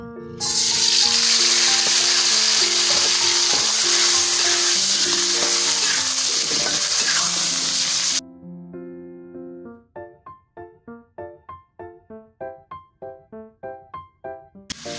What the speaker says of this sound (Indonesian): udangnya saya tumis nanti berbarengan dengan cuminya